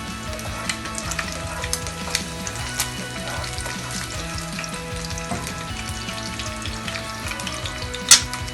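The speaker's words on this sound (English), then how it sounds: "if you want to have a well done fried egg, the secret is to put some olive oil like this on the egg" Eggs frying in olive oil in a pan for breakfast, a steady crackling sizzle with scattered pops and a sharp spit near the end, close and alone with no talking.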